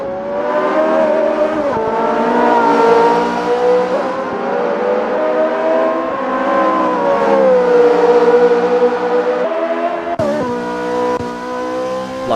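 Ferrari F355 engines roaring in an Assetto Corsa race at the Hungaroring, a loud, sustained whine rising and falling through gear changes, with a sharp shift near the end, no speech.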